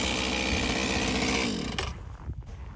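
A motorized ice auger drills through ice for winter fishing, its loud, close engine whine running hard for about a second and a half before it cuts off and fades into quieter rattles.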